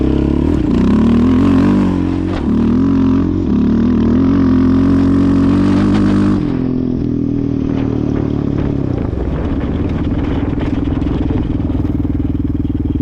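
A Yamaha Raptor 700R ATV, fitted with a Big 3 Fuel Customs intake, Dynojet PC6 and RPRace exhaust, revs hard with a loud, steady engine roar, then drops to a rougher lower drone. Close and continuous, with no talking.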